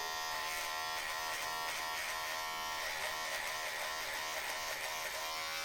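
A T9 vintage electric hair and beard trimmer runs close by with a steady, even buzz and no pauses or voices.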